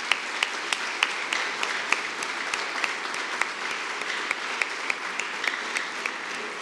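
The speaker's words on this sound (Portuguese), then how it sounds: "Há uma salva de palmas para esses corajosos." An audience at a ceremony honouring the Luzeiros do Vale Pathfinders gives a steady round of applause, even and continuous, with sharper individual claps popping out at regular intervals. No one speaks over it.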